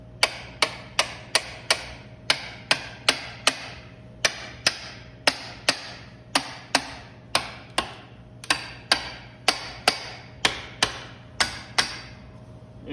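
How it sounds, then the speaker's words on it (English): Sharp metallic hammer taps on a long-dead 80-year-old Chevy 216 six-cylinder engine ring out in quick, uneven bursts of two to four, repeating steadily for the whole stretch, close and loud with a faint hum beneath. "Get my hammer."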